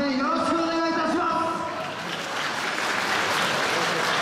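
Audience applause and cheering for a yosakoi dance troupe from Shimanto town at a Ryoma birthday festival, a sustained dense wash of clapping and crowd noise that swells after an announcer's voice fades out at the start.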